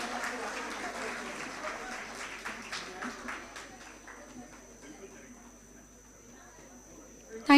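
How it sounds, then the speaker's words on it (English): Audience applauding award winners at a digital and analytics conference, a moderate wash of clapping that thins and fades over several seconds, heard at a distance with faint voices underneath. "Everyone, please give a huge round of applause."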